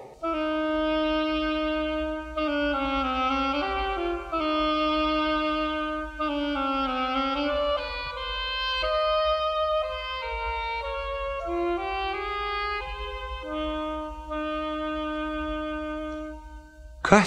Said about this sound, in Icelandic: Öndina leikur óbóið.